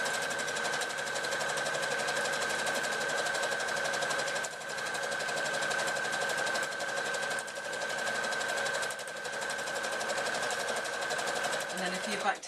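A sewing machine stitches straight across the top of a handbag panel with a steady, fast, loud mechanical whir and clatter that runs unbroken apart from a few brief pauses.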